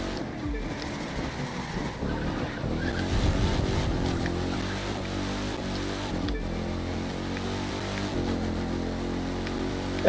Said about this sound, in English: At first I wasn't much of a fan of the engine sound on this thing